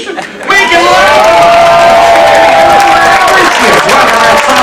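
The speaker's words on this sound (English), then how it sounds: "Can we please have a real Halifax round of applause for Whitney Houston?" A comedy-show audience in Halifax bursts into loud, sustained cheering and applause after a brief quiet start, with whoops and shouts rising over dense clapping throughout.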